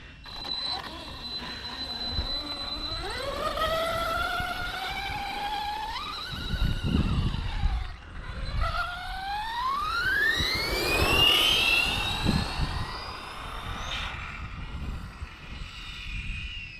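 A Yikong DF7 radio-controlled car on its first test run, its electric motor whining and rising in pitch as it accelerates, dropping and climbing again, loud and close with no talking.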